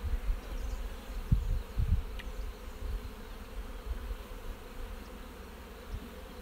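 Bees buzz steadily around an open hive, a dense close drone with a few soft knocks of hive parts being handled.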